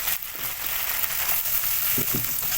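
Water poured into spices frying in a pan for paneer masala with coriander and cumin powder, giving a steady close sizzle with a few brief bursts near the end.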